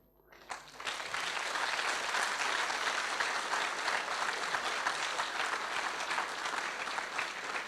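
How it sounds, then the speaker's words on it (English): An audience at a valedictory function breaks into clapping that swells quickly and stays steady and dense for several seconds, without talk. "I would like 2 more rounds of claps"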